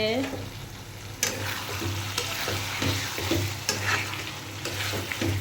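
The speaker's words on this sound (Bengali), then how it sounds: "এই যে দেখেন আলু ভাজি হয়ে আসছে" Potatoes for Bengali aloo bhaji frying in a pan, a steady close sizzle with repeated scraping stirs and clinks of a utensil against the metal, with no talking.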